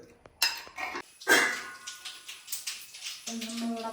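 A utensil clinks and scrapes against a pot while coconut mixture is stirred, in sharp intermittent knocks, fairly close, with a faint tone lingering near the end.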